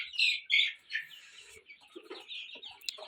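Chickens and chicks in a new coop call out close by, with loud clucks and chirps at first, then softer peeps and low clucks scattered through the rest.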